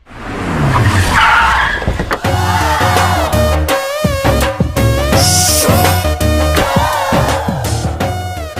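Big cars pull up in a Telugu film scene, engines roaring and tires screeching in a long skidding slide, loud and close, with a musical score swelling underneath.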